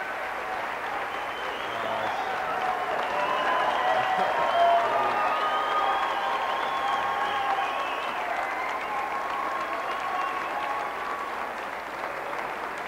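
At DePauw University, a large audience greets Indianapolis Colts quarterback Andrew Luck with sustained, dense applause that swells and holds for several seconds, with a few faint cheers mixed in.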